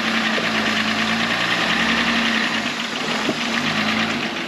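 Engine of a stuck Jeep Wrangler idling off-road in Richloam, Florida, with one end down in a deep hole; a steady, loud low rumble runs throughout with no talk.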